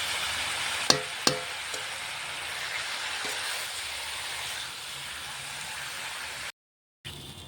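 Chili and cumin sizzling in hot oil as a steady, hissing crackle, opened by a couple of sharp clicks from a spoon or pan, then a brief dropout before the sizzle resumes; no voices.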